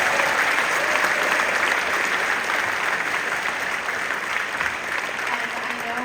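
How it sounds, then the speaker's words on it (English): An audience at a jazz band competition applauds steadily, a dense sustained wash of clapping that holds at an even level from start to finish, with no distinct voices rising above it. "Give yourselves a round of applause."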